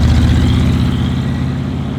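A 1974 Ford Bronco restomod with a 351ci V8 runs steadily, its deep low rumble and harmonic drone loud and constant throughout, with no voices over it.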